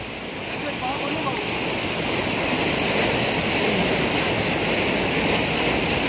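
Strong rushing current in the Hub Dam canal, a steady loud roar of water that swells slightly, heard close from the bank with no clear talk.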